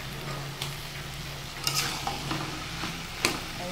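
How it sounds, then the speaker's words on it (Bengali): Cooked cabbage being stirred in a pan with cumin and fennel powder: steady scraping and stirring over a soft sizzle, with a few sharper utensil knocks standing out, close up and without voices. "এখন এখানে এই জিরে আর মৌরি গুঁড়ো দিয়ে নেড়ে চেড়ে এখন নামিয়ে নেব।"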